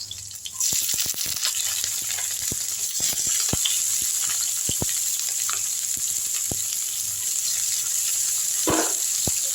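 Onion sautéing in hot oil in a pan with garlic and a slit green chilli, a steady close sizzle throughout broken by frequent sharp clicks of stirring against the pan, with no talk.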